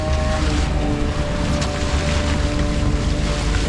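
A fishing boat at sea off the Marquesas Islands, with a steady engine drone and rushing wind and water around it, loud and continuous.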